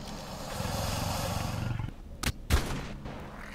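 In a dinosaur survival game, two sharp gunshots crack out close by after a stretch of loud rumbling creature noise, each shot a brief, hard burst.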